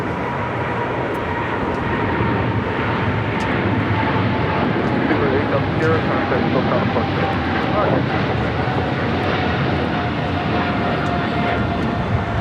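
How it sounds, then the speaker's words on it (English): A British Airways Boeing 777-300ER takes off from LAX for London Heathrow, its engines a loud, steady broadband roar that holds evenly throughout with no break. "This is British Airways 282 taking off to London Heathrow on a 777-300ER."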